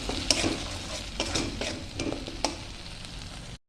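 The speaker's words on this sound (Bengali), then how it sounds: "এর মধ্যে আমি দিয়ে দিচ্ছি টমেটো পেস্ট, আর দিয়ে দিচ্ছি পরিমাণ মতন হলুদের গুঁড়ো, নুন। আমি ভালো করে 2 মিনিট কষিয়ে নেব।" Tomato paste with turmeric and salt sautéing in a pan, a steady close sizzle with stirring scrapes and occasional sharper clinks, no voices.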